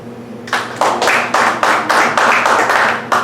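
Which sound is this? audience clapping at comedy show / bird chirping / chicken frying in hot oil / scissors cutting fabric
audience clapping at comedy show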